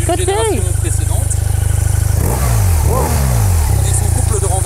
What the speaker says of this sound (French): J'en profite pour vous faire écouter le son de ce bicylindre 1200 cm3.